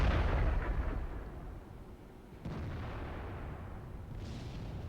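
Distant, low artillery rumble rolls across a World of Tanks battlefield, with a muffled boom midway and sustained background noise; the fire is faint and far rather than sharp.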